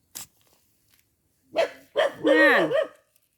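A dog barks a few times nearby, loud separate yaps with a drawn-out whining bark at the end, after a single sharp click and stretches of quiet.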